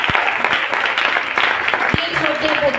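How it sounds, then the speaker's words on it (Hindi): Applause from a crowd, a close, dense patter of clapping with sharp individual claps standing out, with faint voices mixed in. "तालियां।"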